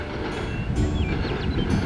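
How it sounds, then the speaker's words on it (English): A Canadian National freight train led by EMD SD70M-2 and SD75I locomotives rumbles steadily past up close near Nokomis, Saskatchewan, with continuous wheel noise and faint metallic squeals over the heavy, constant roar. "a train heading eastward on the Canadian National Main Line"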